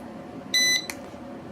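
Syma X20 Pocket drone giving short electronic beeps during gyro calibration: one longer tone, a quick blip, then another beep starting at the end, over faint room noise.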